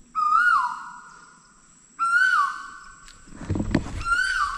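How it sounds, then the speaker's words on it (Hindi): An Asian koel calls twice outdoors at a southern Indian coastal spot, each clear, loud whistled note rising then sliding down, with rustling and handling noise between the calls. "ये कोयल का आवाज है।"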